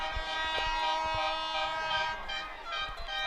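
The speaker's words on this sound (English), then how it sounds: "Looks like the air horns going crazy from the Hamden side." Loud, sustained air horn blasts with rich harmonic tones blare continuously at a high school football game, overlapping with crowd noise and scattered thumps.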